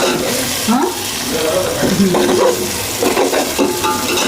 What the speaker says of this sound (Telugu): అల్లం పేస్ట్ మంచి పచ్చివాసన పోయే వరకు ఇట్లా వేయించుకోవాలి.